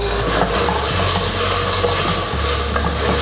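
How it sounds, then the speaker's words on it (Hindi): Meat frying with whole black peppercorns and thick cinnamon sticks for kaddu gosht, giving a loud, dense, continuous sizzle with a steady low rumble and faint stirring underneath. "मिक्स थोड़ा सा और भूनते हैं"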